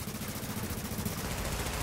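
Rapid automatic gunfire pours into a turret in The Division, a dense continuous burst of shots that is loud and close for the whole stretch.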